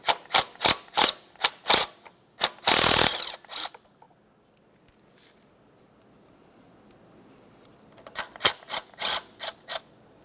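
Ratchet clicks backing off two 12mm nuts on the EGR valve of a 2006-2011 Honda Civic: sharp evenly spaced ticks near the mic, a longer grinding burst, a quiet gap, then another run of clicks.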